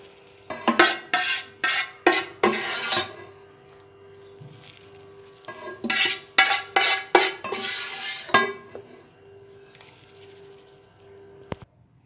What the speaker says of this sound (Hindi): सारी यखनी मैंने इसमें डाल दी है।